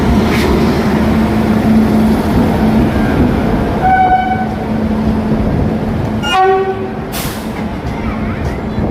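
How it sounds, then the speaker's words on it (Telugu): A train rumbles past loudly and close, sounding its horn twice in short tonal blasts, with a steady roar of wheels and carriages underneath. "మనం ఈ ట్రైన్ ఎక్కబోతున్నాను నేను."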